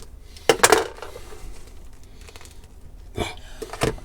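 Crispy air fryer bread cracks apart in a few short, sharp crunching bursts, close and moderately loud, separated by quiet pauses.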